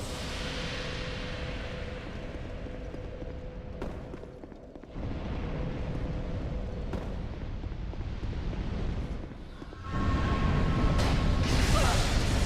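Explosive barrels blowing up in a fire-heavy video game fight, with loud rumbling blasts and bursts that swell and drop, the biggest surge arriving near the end.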